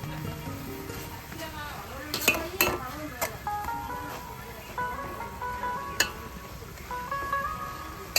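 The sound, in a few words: frying green chillies, onion and garlic in a pan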